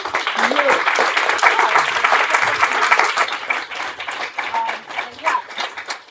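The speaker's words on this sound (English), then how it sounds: "A round of applause to all of you." Crowd applause at a Stop Cop City fundraiser evening, dense rapid clapping from a roomful of people with some voices mixed in, loud and continuous before tapering in uneven bursts near the end.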